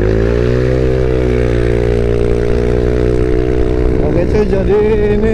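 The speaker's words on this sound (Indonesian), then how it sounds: "mau ke bengkel dulu karena knalpotnya Indra tadi copot sih saringannya" Motorcycle engine running with its exhaust silencer insert removed, a steady loud droning rumble that holds an even pitch throughout, rising slightly toward the end with some rougher texture.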